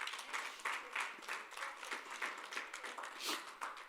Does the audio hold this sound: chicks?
no